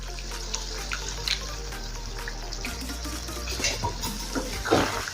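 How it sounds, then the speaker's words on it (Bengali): Water is poured into a pot of partly cooked chicken korma, a soft, uneven splashing and trickling that swells near the end over a low kitchen hum. "তাই এখন দেবো 1 কাপের একটু বেশি জল"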